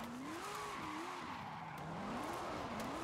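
Tires squeal in long wavering tones as a car corners hard in the Forza racing game, steady and loud over engine noise for the whole stretch.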